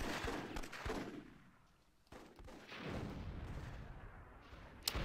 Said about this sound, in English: Cannons getting a hit there